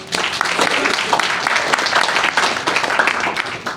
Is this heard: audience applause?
yes